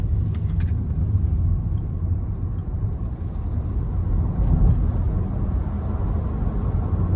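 A 2023 Renault Zoe E-tech Intense electric car taking a curve, with a steady low road rumble inside the cabin and a few faint, brief rattles from a loose mount over the hum.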